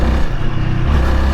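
Honda Rebel 300 motorcycle pulling away in a parking lot, a loud, steady low engine drone with rising revs close by, no talk over it.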